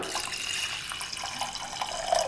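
Moong dal being washed in water, a continuous close wash of running, splashing water with light trickles and a few drips, heard alone.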